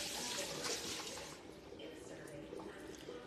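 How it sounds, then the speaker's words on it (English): Spoon rinsed under a running kitchen tap during gumbo making: a steady, close rush of water that is louder at first and then eases to a softer flow. "Here, wash the spoon back off."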